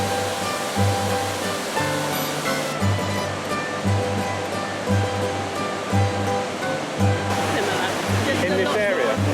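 A waterfall in Croatia roars as a steady, dense rush of falling water close by, with a rhythmic lower tonal pulsing running beneath it.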